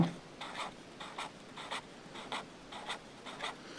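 A pen or chalk scratches out figures on a board during a fifth-grade math lesson. The short, faint strokes come in quick clusters with brief pauses between them.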